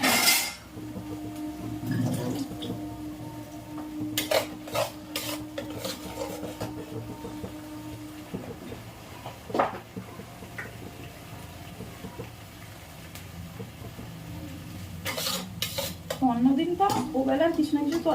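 Curry sautéing in a large pot, heard as intermittent scraping and stirring with a spoon against metal, a few sharp clinks, and a low steady hum beneath, close by and moderately quiet.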